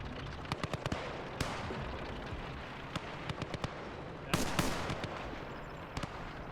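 Infantry squads exchange gunfire in the World War II strategy game Gates of Hell, Eastern Front woodland fighting: scattered sharp rifle and machine-gun cracks over a dull battle rumble, with a louder burst of firing midway.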